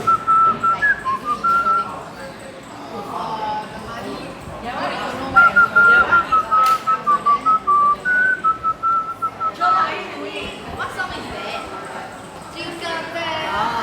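A person whistles a wavering tune in a room, the melody carrying through background chatter and rhythmic tapping, with voices talking around it.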